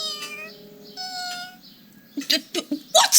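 Kittens meow in a short string of high, wavering cries near and clear, followed by a burst of sharper, busier mewing and rustling toward the end.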